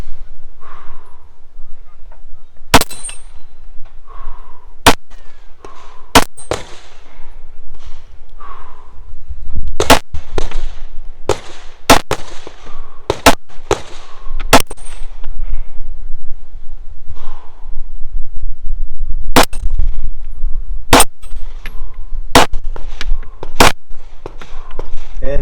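Pistol shots ringing on a distant steel dueling tree at a practical shooting competition stage in Finland, a long uneven series of crisp cracks spread across the clip with faint speech between them.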